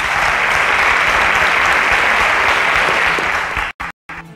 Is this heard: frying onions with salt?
no